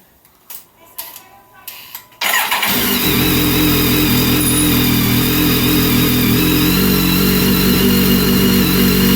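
A BMW K1300R motorcycle fitted with an Arrow slip-on exhaust cranks briefly and fires up, settling into a loud, steady idle close by, after a few faint clicks and handling noises.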